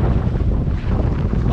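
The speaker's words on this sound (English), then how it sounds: "Oh, we got a gust coming." A strong gust of wind on open water during stormy conditions on a stand-up paddleboard with a sail, heard as loud, continuous roaring buffeting against the microphone with no voices.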